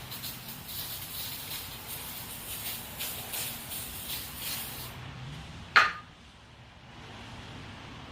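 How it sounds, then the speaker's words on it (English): Lubricant sprays in a long steady hiss across the blades of a Stihl HL94K hedge trimmer for about five seconds, then stops, followed by one sharp knock and a quieter background. "So I'm going to spray the blades down."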